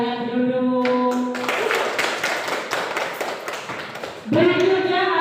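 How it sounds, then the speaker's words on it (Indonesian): Classroom students clap for group 2, a burst of close, sharp handclaps lasting a few seconds, framed by a sustained tone before and after. "tepuk tangan untuk kelompok 2"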